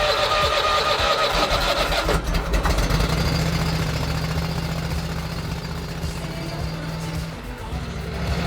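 An engine is started with the choke on and the key turned, a brief crank and catch followed by a steady idle that gradually settles.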